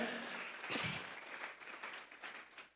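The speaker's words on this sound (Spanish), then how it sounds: "Vamos a regalarle ofrenda de palmas al Dios de la gloria" Congregation clapping during a Sunday church service, steady applause at moderate distance with a sharp louder clap near the start, fading gradually toward the end.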